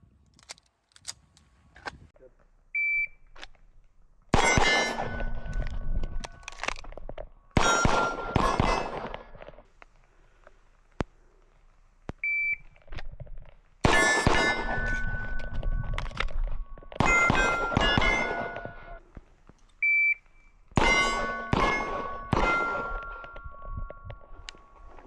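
Nighthawk Sand Hawk pistol fires in several quick clusters of sharp shots, each burst followed by bright metallic ringing and clanging, separated by quieter pauses with faint handling.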